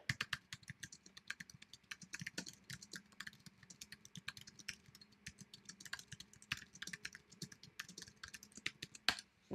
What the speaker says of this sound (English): That was me rage typing.